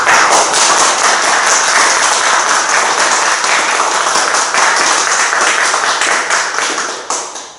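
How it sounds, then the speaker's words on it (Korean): Audience applause fills a preaching seminar hall: a sustained, dense wave of clapping from many hands that stays loud and even, then thins and fades near the end. "이렇게 박수 많이 받기 처음이야."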